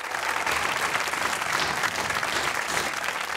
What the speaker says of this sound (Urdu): آپ کی تالیوں میں، آپ کی گونجدار تالیوں میں استقبال کریں ہماری اگلی شاعرہ کا، محترمہ رخشندہ نوید۔